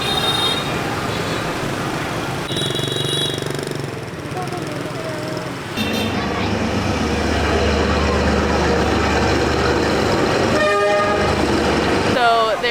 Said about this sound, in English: There's something called a train street here in Hanoi, and basically like the train tracks come in between like a really small corridor